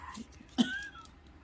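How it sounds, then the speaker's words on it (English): A single short cough, sharp and close, followed by a faint high-pitched tone fading over a low background hum. "Got a coughing jag going."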